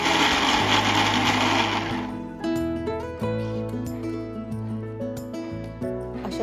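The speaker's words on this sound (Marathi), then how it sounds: "जेव्हा मिक्सरला फिरवतो तेव्हा त्याची पेस्ट तयार होत नाही आणि पल्स मोडवर आपल्याला बारीक" A mixer grinder on pulse mode grinds spicy amla thecha with rock salt into a coarse paste, giving one loud whirring burst of about two seconds, then stopping as music carries on.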